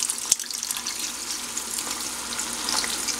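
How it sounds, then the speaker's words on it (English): Vegetable broth poured into a pot of ramen soup on the stove, a steady watery rush with light sizzling, close and continuous for a few seconds. "we're going to go ahead and add in our veggie broth."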